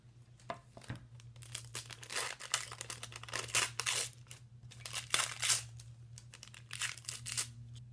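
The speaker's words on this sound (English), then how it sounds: "So now it's time to go ahead and tear off the tracing paper and the tape." Tracing paper and tape are torn away from nails on a DIY string art board, making irregular bursts of crisp ripping and crinkling over a steady low electrical hum.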